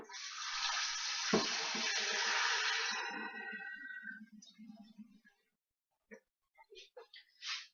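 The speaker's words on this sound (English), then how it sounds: "I'm going to put some water in just so that they skim the top of the potatoes." Water gushes and pours into a pot of potatoes for a few seconds, slowing to drips and trickles, followed by a few faint clinks and a voice.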